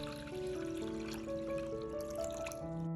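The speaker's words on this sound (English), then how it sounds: "Add 1 teaspoon of salt and 1 liter of water." Water trickles and pours into a large bowl holding salt, a soft continuous stream with a faint rising tone as the bowl fills, quiet and close, with no voices.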